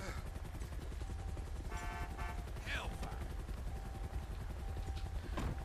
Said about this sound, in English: Where's the chopper at? Oh, there it is.